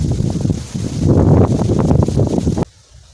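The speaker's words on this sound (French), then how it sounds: "Sur ce magnifique décor et ce magnifique vent" Wind gusting outdoors, a broad, steady rushing buffet over a microphone that holds loud for over two seconds and then cuts off abruptly.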